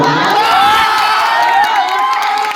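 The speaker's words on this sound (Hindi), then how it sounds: "मैं चाहता हूँ रति जी के लिए जोरदार ताली बजा दो।" A large crowd at a Bhojpuri film event cheers and shouts loudly, a dense roar of voices with some whoops and clapping, close and sustained throughout.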